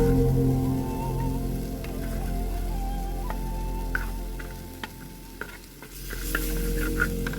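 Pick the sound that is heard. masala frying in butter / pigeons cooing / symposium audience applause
masala frying in butter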